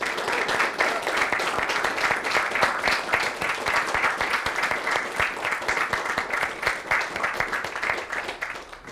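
A large audience breaks into sustained, dense applause for the UEA, loud and even throughout with no voices over it.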